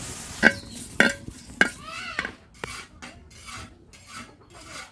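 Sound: green chilies dry-frying in a pan

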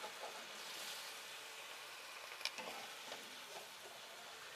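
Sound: scraping browned bits in a hot pan while cooking chicken

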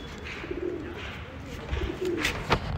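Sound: pigeons cooing

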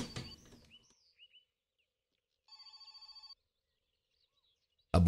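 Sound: telephone ringing in video game My Summer Car

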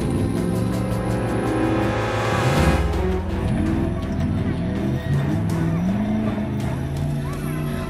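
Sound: off-road rally car speeding off the track

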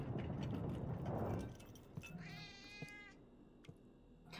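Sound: cat meowing

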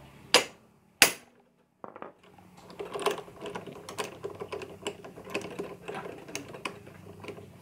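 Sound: hammering an impact wrench to loosen a brake caliper bolt

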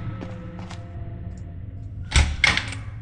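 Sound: bathroom door being locked in video game Scary Child

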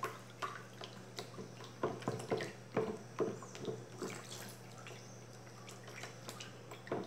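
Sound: rhythmic stirring of homemade tangerine detergent

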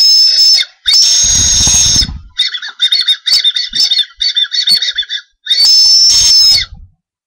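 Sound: whistling on a Japanese whistle candy

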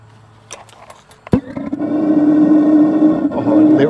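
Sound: RV water heater burner igniting

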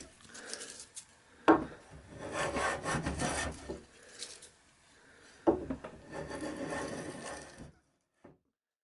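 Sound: flattening wooden pocket for wagon vise on workbench

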